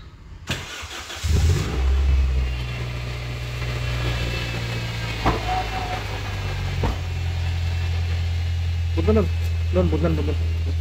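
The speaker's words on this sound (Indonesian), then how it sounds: "ini mesin udah kita coba hidupin ya kan" A 2004 Toyota Altis engine cranks and catches, then settles into a steady low idle with a slight rev, heard close up while people talk nearby.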